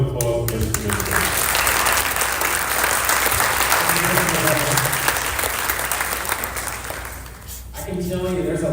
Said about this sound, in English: So another round of applause for Mr. Minster